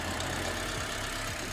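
Car engine idling at a vehicle auction in Palembang, a steady low rumble with faint rhythmic knocking, close and continuous, with no talk over it.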